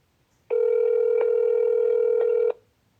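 A single steady telephone tone, like a ringback or dial tone on a phone call, holds for about two seconds at close range and then cuts off into silence.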